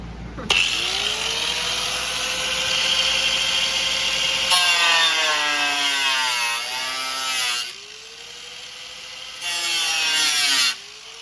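Power saw cutting through a 2012 Mustang RTR decklid panel, a loud, steady, close high whine with a pitch that sweeps as the blade works, a brief pause, then one more short cut.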